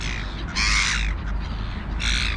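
Crows cawing in an open field during a treat feeding, two loud bursts of harsh calls separated by a short lull, close by and heard alone.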